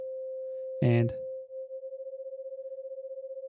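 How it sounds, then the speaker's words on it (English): A pure sine tone from the FL Studio 3xOsc synthesizer holds steady and clear throughout, briefly overlapped by a short spoken word near the start before continuing alone. "let's play again the sine wave"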